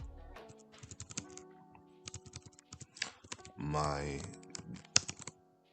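Rapid clicks of typing on a computer keyboard come in bursts and short runs, close and crisp, while someone speaks over them.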